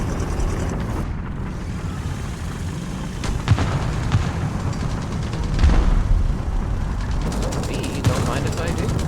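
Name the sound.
gunfire shooting at a gun in video game War Thunder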